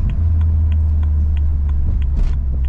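A BMW E90 with a built engine and swapped 8HP70 automatic gearbox drives along, its low engine drone steady and close with a faint rhythmic ticking over the rumble.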